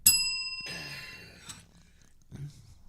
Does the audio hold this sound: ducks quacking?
no